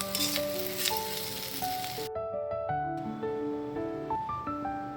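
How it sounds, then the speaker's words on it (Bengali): Potatoes and cauliflower with whole green chillies frying in a pan make a steady close sizzle. Sustained background music plays over it, and there is no talking. "আলু ভাজতে ভাজতে প্রায় শেষ পর্যায়ে চলে এসছে"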